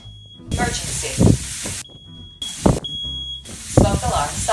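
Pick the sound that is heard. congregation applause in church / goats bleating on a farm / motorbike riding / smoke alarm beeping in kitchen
smoke alarm beeping in kitchen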